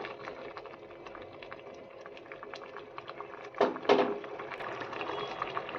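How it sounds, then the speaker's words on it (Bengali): Water poured from a bowl into a pan of lemon pepper chicken with spices and cornflour mixture, making a brief close splash and bubbling gush over a low steady hum. "এখানে আমি হাফ বাটির মতো জল অ্যাড করছি।"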